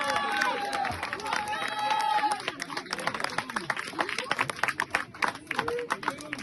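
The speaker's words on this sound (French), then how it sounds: "J'aimerais vos applaudissements pour monsieur Jean-Claude Pierrine" An audience at an inauguration evening claps for Jean-Claude Pierrine, a dense patter of many hands building into steady applause, with crowd chatter and voices mixed in and talk over the start.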